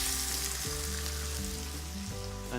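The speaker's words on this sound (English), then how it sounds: "now we get the blanched chard into the pan" Blanched rainbow chard sizzles loudly in a hot pan with wine, a close, continuous frying hiss with bubbling, alone without talk.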